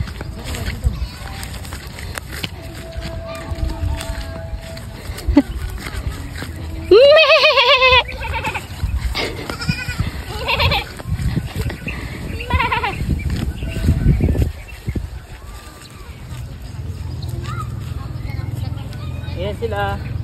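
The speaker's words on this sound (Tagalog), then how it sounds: "Tara, dalawin natin ang mga alaga nating kambing." Pet goats on a Filipino farm bleat in short bursts at mid-distance, mixed with people talking and outdoor background noise.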